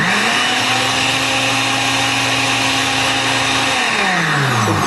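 A blender whirs loudly and steadily as it liquefies ingredients for Cameroonian yellow achu soup, its motor tone holding constant and then sliding down as it winds off near the end.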